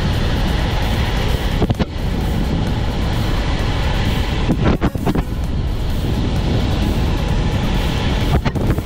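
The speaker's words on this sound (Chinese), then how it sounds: "好大风啊！唔系因为我依家个速度大风。" Strong wind roars across the microphone while a road cyclist climbs a steep mountain road in Hong Kong, a loud, continuous buffeting rush with a few sharper gusts and no talking.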